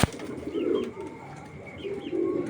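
A female black checker racing pigeon coos nearby in two soft, throaty bursts, with a faint bump at the start and quiet background between calls.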